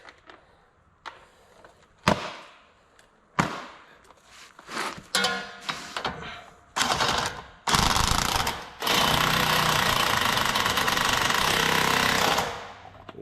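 Impact wrench working on a wheel bearing of a Dodge Ram 4x4, with several short loud bursts followed by one long sustained run of hammering near the microphone.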